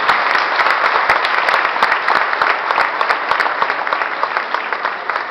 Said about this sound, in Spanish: ¿No merece un aplauso eso?